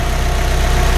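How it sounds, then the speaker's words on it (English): A Fiat 500 engine idles steadily with the blowers switched off, a close, continuous low rumble with an even pulsing beat and no voices. "I've turned off the blowers so you can hear the engine."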